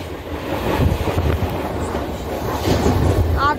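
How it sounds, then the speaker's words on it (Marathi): A Western Railway fast local train pulls out of Andheri station and accelerates, a steady loud rumble of wheels and motors with wind buffeting the microphone, heard from on board. "ऍक्सेलरेशन बघा वेस्टर्न रेल्वेची सामील लोकल"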